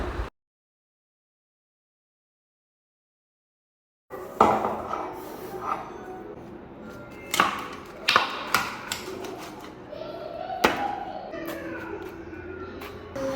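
A pineapple is cut and peeled for pickle in a kitchen, with knife thumps and taps on a board and clatters of utensils after a long silent stretch, irregular and fairly close.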